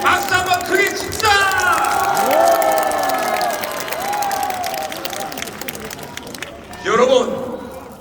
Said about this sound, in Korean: 저 대목에서 우리 박수 한번 크게 칩시다.